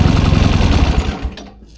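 A 1972 Triumph 650 Bonneville motorcycle engine idles with the choke off and fresh spark plugs, a loud rapid even putter close by that tapers off near the end.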